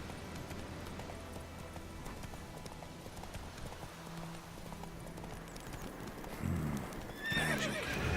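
Geralt's horse Roach in The Witcher 3 game, heard as soft hoof clip-clops and a rising whinny near the end over a quiet ambient game background, with no talking.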